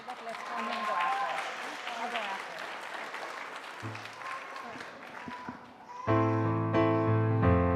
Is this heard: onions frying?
no